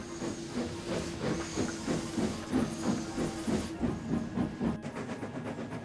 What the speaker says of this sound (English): Wyatt was chugging along.